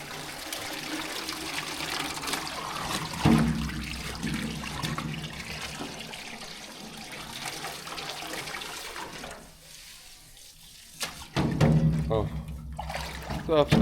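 Water is poured and runs for Hereford cattle in a farm barn, a continuous splashing flow that briefly drops away, then resumes loudly, with a voice heard at times.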